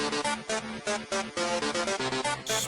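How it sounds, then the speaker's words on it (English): Danse Macabre plays from a record player in Resident Evil: Maiden, a short run of plucked and bowed string notes in a bouncing rhythm with small gaps between phrases, moderately loud and clear with no voices. "Dance Macabre actually sounds like this."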